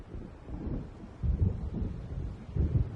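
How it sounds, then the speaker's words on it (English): A thunderstorm approaches in the video game Alan Wake Remastered, with low, rumbling thunder and gusting wind rolling in heavy, booming swells over a constant dark roar. "It seems there's a storm coming."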